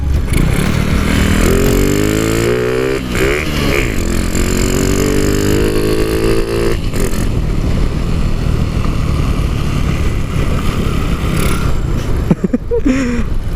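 A Honda Wave 125 motorcycle, fitted with an aftermarket exhaust and riding on stock tyres, roars loudly and continuously through jungle, its engine revving up and down close by with no break.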